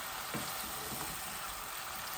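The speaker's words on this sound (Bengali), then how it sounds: "মাছগুলা দিয়া লাড়াচাড়া করে নিয়ে" Fish sizzling and frying in a pan while being stirred, a steady close hiss with a brief scrape of stirring near the start, no voices.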